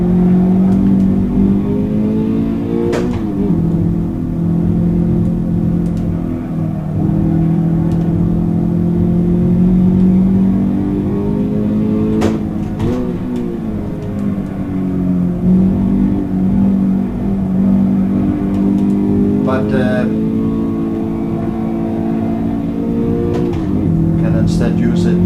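Toyota GT86 engine in the Assetto Corsa racing simulator, a steady mid-pitched drone that rises and falls with repeated shifts and revs for the whole stretch while someone talks over it.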